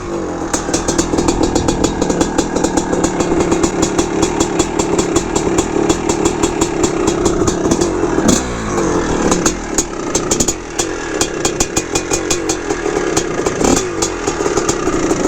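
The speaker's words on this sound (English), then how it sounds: "First kick, good kick. Started right up." A 1981 Honda CR450R Elsinore, an air-cooled 450 two-stroke dirt bike, runs stone cold just after a kick start, its loud, close exhaust crackling at a rapid idle with repeated throttle blips and sharp revs.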